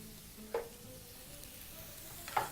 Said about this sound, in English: Proceed to add your garlic to the pan and toss once more